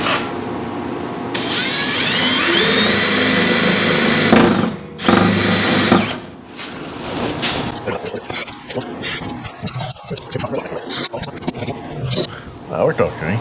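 A power drill bores a hole through a custom inner fender apron panel on a 1962 Mercury Comet, a loud, close, steady whine of about six seconds followed by shop clatter and background noise.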